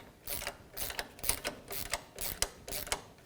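Repeated ratcheting as a wrench snugs a nut on the outer tie rod of a 1999-2007 Ford F-250, about six short bursts of clicking in a steady rhythm, close and fairly loud.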